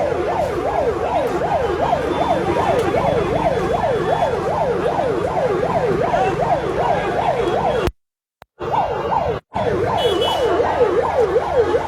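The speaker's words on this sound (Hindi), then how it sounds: "एक एम्बुलेंस को पार कराने के लिए" An ambulance siren wails in a fast, repeating rising-falling pattern, loud and close, with traffic noise beneath and two brief dropouts near the end.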